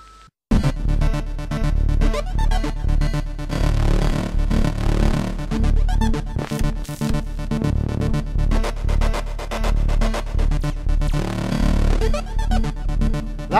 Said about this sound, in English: That's the sound of the Novation Mininova.